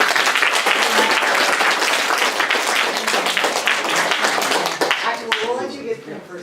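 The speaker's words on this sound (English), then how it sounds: "let's do another round of applause" A crowd applauds in a dense, sustained round of clapping that fills the room, tapering slightly toward the end while a few voices murmur underneath.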